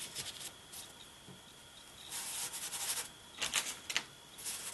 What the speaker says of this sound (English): And just rub that over the black cardstock.